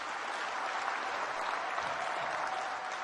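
Sustained audience applause at a Tanzania–Uganda business forum: steady, dense clapping from a large crowd throughout, with no speech over it.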